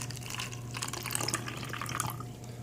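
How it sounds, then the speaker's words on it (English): Water drains from a basin after tomatoes are washed in it, a steady close splashing and trickling flow with small drips, continuous and alone throughout. "Then I'm going to drain out the water that I used to clean these tomatoes."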